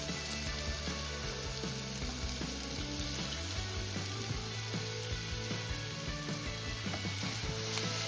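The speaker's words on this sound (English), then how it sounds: "We're gonna saute this for a little bit, maybe 1 or 2 minutes." Chopped garlic and onions sauté in a pan with a steady, even sizzle, a few light scrapes and stirs breaking through the quiet frying hiss.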